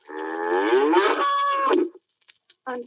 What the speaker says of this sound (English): 2 cows with 1 moo.